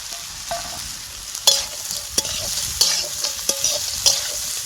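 Soaked cashews and raisins frying in hot oil for fried rice, with a close, crackling sizzle broken by a series of sharp spatula scrapes and clacks against the pan.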